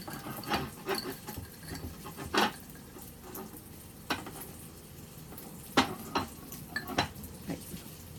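A fork scrapes cooked egg out of a microwave breakfast sandwich maker, giving scattered light clinks and scrapes against the cooker's surfaces, fairly close and spaced irregularly, with no talking.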